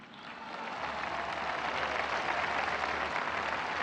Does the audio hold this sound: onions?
no